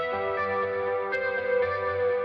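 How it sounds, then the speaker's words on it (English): An Odin III MIDI guitar with pick attack added sounds a sustained, bright chord with a short plucked click partway through, the tone ringing on alone. "Now, you can absolutely add pick attack."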